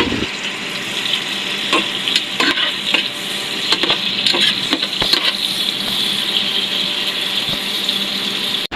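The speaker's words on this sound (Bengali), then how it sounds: "কড়াইয়ে পেঁয়াজ মরিচ দিয়ে দিলাম রান্নার জন্য। এখন দিয়ে দিচ্ছি তেল, দিয়ে ভালোভাবে নেড়ে নিচ্ছি।" Onion and chili stirred in hot oil in a wok: a steady close sizzle with repeated scraping stirs and clicks of the utensil against the pan, no voices.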